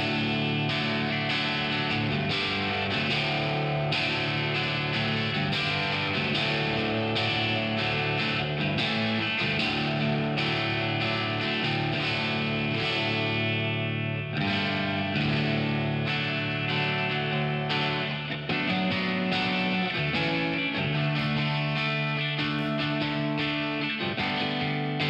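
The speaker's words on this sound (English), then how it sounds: "let me show you the reverb here. I'll exaggerate it so you can get a better idea." Electric guitar played through an exaggerated reverb from a Waves Signature Series plug-in during mixing, sustained chords ringing with a long wash of tail, loud and continuous throughout with slight distortion, no talking.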